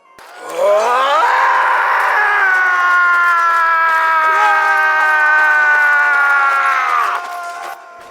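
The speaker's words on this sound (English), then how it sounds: "all that screaming is the beautiful, beautiful battle cry" Players' battle cry in a video game: a loud, sustained chorus of many voices screaming together for around six seconds, rising at the start and tapering off at the end.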